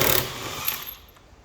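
A DeWalt impact gun hammers loudly and continuously on a nut for under a second, then its rattle fades as the nut comes free.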